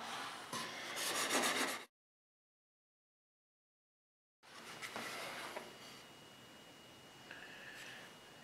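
A plane iron is rubbed back and forth on a sharpening stone to remove a nick from its edge, a close, steady scraping rasp that stops for a few seconds of silence and then resumes more softly.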